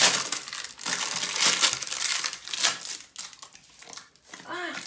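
Crinkly paper rustles and crackles continuously at close range, with sharp crumpling bursts and a louder tearing-like swish partway through.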